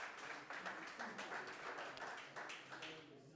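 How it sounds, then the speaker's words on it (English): Audience applause at a live London event, the 2023 African Nations Cup UK draw: a steady wash of many hands clapping for about three seconds, fairly distant and crowd-like, with no individual voice standing out. "Let's also give the gentleman here a hand of applause,"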